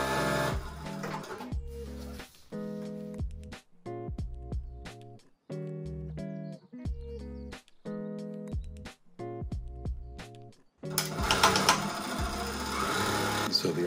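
Juki DDL-8000A industrial sewing machine stitching at a smaller stitch length, in short bursts of rapid mechanical whirring separated by brief pauses, with louder continuous running toward the end.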